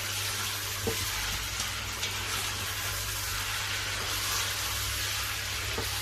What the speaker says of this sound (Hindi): अदरक डाल के इसको अदरक के साथ फ्राई करेंगे